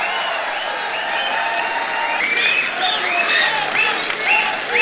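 An audience at a poetry recital applauds to welcome a poet on stage: steady, dense clapping from a large crowd throughout, with scattered cheers and whistles rising over it.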